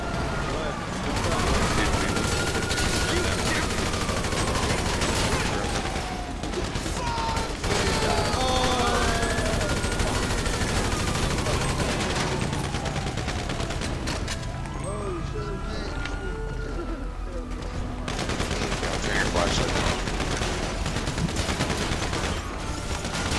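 Gunfire in GTA 5 Online as a crew battles Los Santos police, dense bursts and scattered shots running nearly continuously with voices talking over the shooting.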